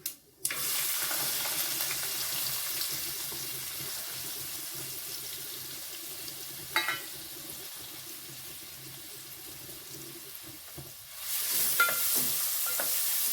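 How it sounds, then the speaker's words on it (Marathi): Cumin seeds, curry leaves and onion sizzle in a hot pan for kanda poha. A loud, steady frying hiss runs for the whole stretch, briefly popping and then swelling louder near the end. "जिरे घालूया कढीपत्त्याची पानं कांदा घालूया"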